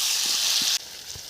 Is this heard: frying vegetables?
yes